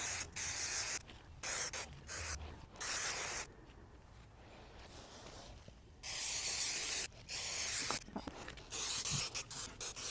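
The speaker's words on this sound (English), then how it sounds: "I'm gonna spray very well the surface of this and the surface of the plywood" Spray adhesive hissing from a can onto plywood in bursts of about a second or two each, separated by short quiet gaps, close and loud with no talk.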